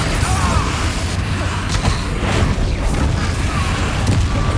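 Confringo blasting spell explosions in the Hogwarts Legacy video game: a dense, loud, sustained rumble of booms and crashing bursts running through the whole stretch, with no quiet gaps.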